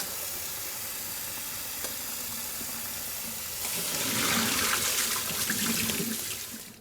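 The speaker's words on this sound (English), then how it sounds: "Drain and refresh them under cold water." Cooked potatoes drained and rinsed under a cold kitchen tap: a steady low running-water hiss that turns into a louder, splashing gush halfway through as the stream hits the potatoes.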